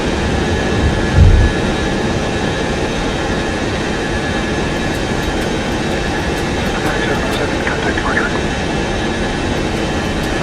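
Boeing 707-320C jet engines in Microsoft Flight Simulator 2024 roar in a loud, steady wall of turbine noise that continues without a break, with a brief thump near the start and faint tones rising over it later.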